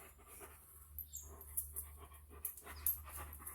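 A dog pants in quick, soft, breathy bursts with a few small sniffs and clicks, close but faint over a low steady hum, with no talk.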